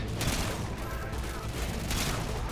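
Rapid pistol gunfire in Call of Duty Modern Warfare 2, a dense burst of loud, close shots blending into a continuous crackling barrage for a couple of seconds.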